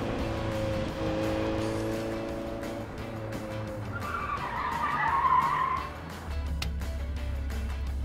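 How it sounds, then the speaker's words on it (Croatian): A car pulls away with the handbrake still on during a driving challenge, its engine droning and then its tyres squealing in a rising skid for a couple of seconds before the engine note settles low. "Challenge broj 1, Martinu kreće auto pod ručnom"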